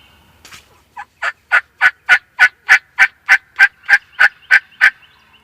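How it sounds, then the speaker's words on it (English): A wild turkey gobbles in a rapid run of about fourteen loud, evenly spaced throaty bursts, close and clear over a quiet morning field with no talk. "We got 3 or 4 birds gobbling around us"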